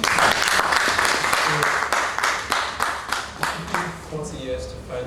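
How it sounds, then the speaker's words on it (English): Loud applause from a leadership conference audience, steady clapping throughout that tapers slightly toward the end, with voices faintly mixed in near the close. "Well, you can applaud properly"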